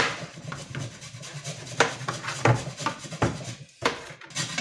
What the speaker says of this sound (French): Tu tiens comme ça et tu râpes le zeste.